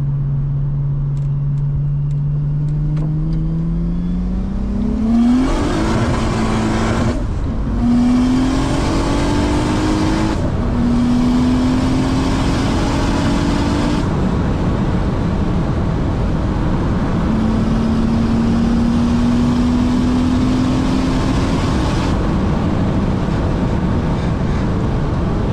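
Porsche 911 Turbo pulling hard through second gear, its engine note rising steadily in pitch with brief dips at gear changes, loud and close throughout with no talking.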